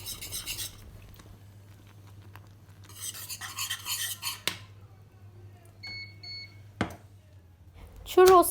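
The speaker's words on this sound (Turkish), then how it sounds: "Yine birazcık karıştıralım. Dibi tutmasın." Churros dough being stirred in a pot, with bursts of scraping and clinking at the start and middle, a few sharp knocks, and a faint beeping and talking in between.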